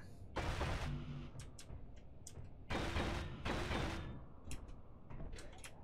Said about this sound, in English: let's see how much of this we can get welded up